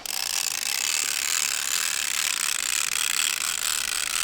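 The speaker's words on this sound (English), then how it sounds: "And you basically just crank it up. It's got a clutch in there" Steady, rapid ratcheting clicks from a crossbow's cocking crank mechanism, loud and continuous throughout with no pauses.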